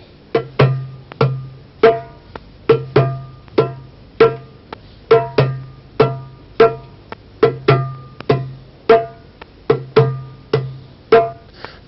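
A drum beats an andante 4/4 rhythm, with steady pairs of crisp hits repeating evenly over about twelve seconds, close and alone.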